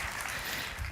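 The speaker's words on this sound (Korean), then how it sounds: "여러분 뜨거운 박수로 다시 한번 감사를 표해주시기 바랍니다" Warm applause from a church congregation at a Sunday service, a brief, dense burst of many hands clapping together at moderate volume with no speech.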